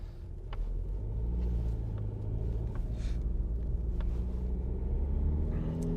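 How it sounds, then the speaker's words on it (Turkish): A Citroen C5 Aircross 1.5 HDI driving over muddy ground, with a steady, loud low rumble of road and engine noise throughout and a few faint sharp ticks on top. "Bak çok çamur sıçratıyorum."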